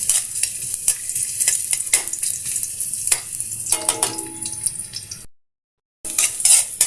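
Ginger sautéing in a hot pan for chicken tinola gives a steady loud sizzle with scrapes and stirring clatter, then a brief silent gap before the sizzling resumes.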